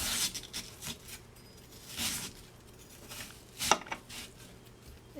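A knife slicing an onion on a cutting board, several crisp chops spaced unevenly, quiet and close, with no one talking.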